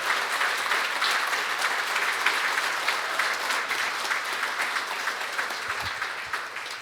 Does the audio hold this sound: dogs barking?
no